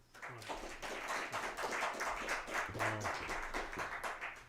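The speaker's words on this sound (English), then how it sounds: "Why don't you put your hands together and give Johnny a nice round of applause" A small audience at a barn claps to welcome Johnny, individual hand claps audible in a loose, uneven patter at moderate distance, with a few faint voices underneath.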